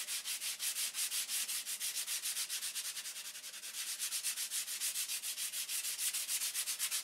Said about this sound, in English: I thought it was 400 I was sanding with.